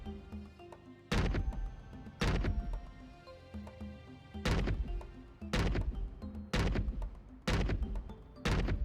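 Explosion sound effects from the video game Alabaster Dawn fire in a repeated series of about seven heavy booming blasts at fairly regular intervals, each a sudden loud thump with a decaying rumble over faint background music.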